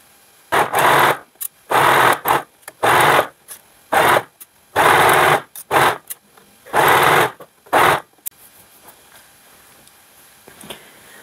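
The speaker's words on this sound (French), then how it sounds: "L'étape d'après, c'est donc de coudre ma jupe. Donc les trois panneaux de la jupe, les uns avec les autres." Sewing machine stitching viscose skirt panels together in repeated short bursts, close and fairly loud, separated by brief pauses and fading to quiet room noise at the end.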